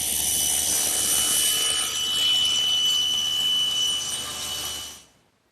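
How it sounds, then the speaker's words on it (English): A saw cuts through a piece of quarter-inch plywood in a workshop, a steady loud whirring rasp that holds for about five seconds before stopping abruptly. "the next thing that I have to do is cut this piece of 1/4-inch plywood to fit on the back"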